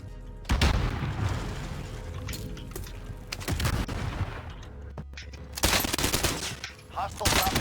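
Rapid automatic weapon fire from a carbine in the Warzone battle royale game crackles in dense bursts, with loud booming shots and gaps between volleys, under game effects.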